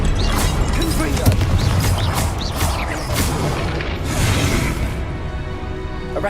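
Blast effects from the Confringo fire spell in Hogwarts Legacy, loud continuous booming and whooshing under a dense game soundscape.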